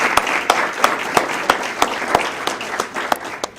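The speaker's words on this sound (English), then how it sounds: "Let's have a round of applause for John." Steady applause from an audience at a mayor's employee recognition awards ceremony for a worker with 20 years of service, with sharp individual claps standing out over the crowd.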